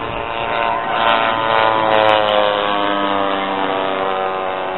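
A warbird propeller plane flies over an airshow at Warbirds Over the Rock, its loud steady droning engine roar with layered harmonic tones filling the whole stretch, swelling slightly in the middle.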